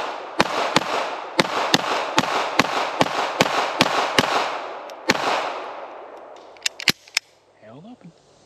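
Rapid pistol shots from an HK P7-M13 handgun, about a dozen sharp cracks fired at a steady pace, then a few quicker closely spaced shots near the end, loud and close with a brief ring after each.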